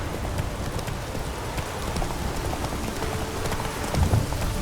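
Roach, a horse in The Witcher 3, galloping with steady hoof clip-clop under a dense, rain-like wash of ambient noise, moderately loud throughout with a slightly heavier beat near the end.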